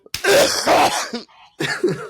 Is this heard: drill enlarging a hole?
no